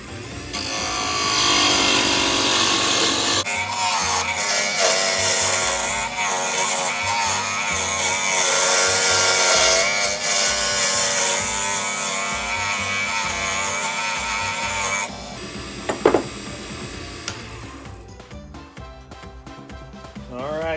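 A Wen 8x12 wood lathe turns a wood blank with a loud, continuous whirring hum and scraping tool noise. After about fifteen seconds it drops to a quieter spin-down with a few knocks and scrapes.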